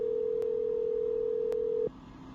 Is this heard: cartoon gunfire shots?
no